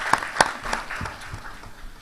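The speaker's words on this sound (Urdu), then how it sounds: "ان کے لیے بھی بہت سی داد اور بہت سی تالیاں ان کے لیے۔" Scattered applause at a literary gathering: a few distinct hand claps ring out near the start, then thin to a sparse, fading patter.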